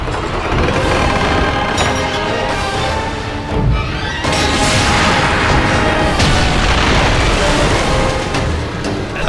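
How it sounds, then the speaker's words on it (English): Ballista fire aimed at ships in the PSP video game God of War booms over a dense, loud battle soundscape with crashing and rumbling effects throughout. "go shoot the ballista to stop those ships from firing to you"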